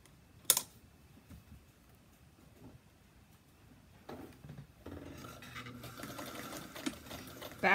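A sewing machine stitches a fabric bowl cozy. After a quiet start with a few small clicks, it runs in a steady close-up whir through the second half.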